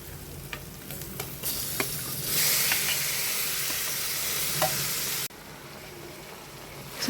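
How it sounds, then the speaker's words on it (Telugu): Chicken pieces dropped into hot oil in a curry pan over cooked onion, ginger-garlic and tomato paste, a steady loud sizzle and hiss with stirring clatter that cuts off sharply, then a quieter fry continues. "ఇప్పుడు చికెన్ వేస్తాను."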